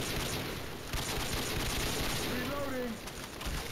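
Rapid automatic fire from a modded sniper rifle in Left 4 Dead 2, a steady dense stream of shots at moderate level, with game noise and faint chatter mixed in.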